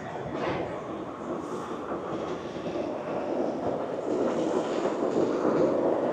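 An Istanbul airport metro train rumbles steadily along the track, a continuous close roar with faint rattling from inside the carriage.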